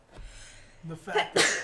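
A single sharp sneeze bursts out near the end, preceded by a short intake of breath, close and loud, with a person murmuring briefly just before it.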